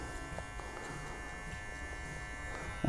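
Electric hair clippers cutting hair with the guard set a quarter open, a steady close buzzing hum with faint snips of cutting running throughout.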